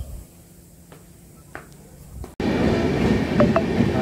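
A train on an Indian railway platform, its rumble starting suddenly midway and continuing loudly with clattering wheel noise after a quieter stretch of faint station ambience.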